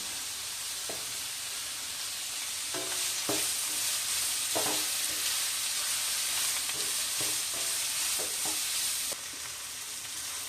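Onions sauté with salt in a pan under a steady, close hiss of sizzling. Occasional light clinks and scrapes of a stirring spoon break through, with no talking.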